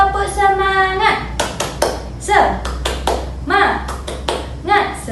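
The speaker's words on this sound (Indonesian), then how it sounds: "ayo kita tepuk semangat dulu semua" Rhythmic patterned clapping from a classroom group doing a 'tepuk semangat' cheer routine, sharp bursts of claps in quick sets with short pauses, led by a teacher's voice with talk between clap sequences.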